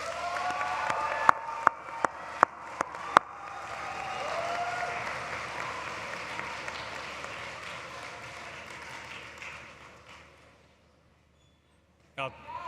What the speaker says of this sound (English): you give them a wave and a thankful round of applause